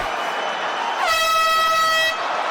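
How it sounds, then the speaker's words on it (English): Loud air horn marking the end of round one in the Volkov vs Gane heavyweight MMA rematch, a single sustained blast of about a second cutting through steady arena crowd noise. "Probably took forever to hear that horn for Volkov"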